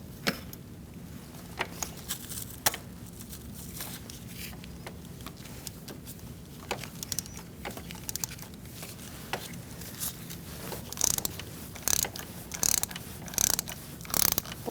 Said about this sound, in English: Now we're going to take the spark plug out. We're going to use a 5/8 spark plug socket